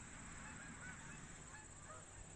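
Faint Canada goose honks in the distance over a steady background hiss, a few calls scattered across the moment, as the geese fly over meadows in Canada in early autumn.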